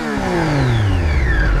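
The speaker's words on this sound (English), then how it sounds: "I personally love the little whistle, and that's made by the engine" A 2018 Triumph Street Triple RS motorcycle engine revs loudly and close up, with a high whistling tone that falls in pitch as the revs drop.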